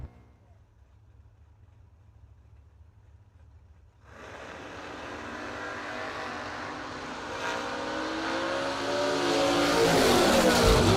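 Drag racing car launching down the strip at a New Year Nationals event, quiet at first then a sudden loud engine roar that builds and holds, heard from a distance across the track.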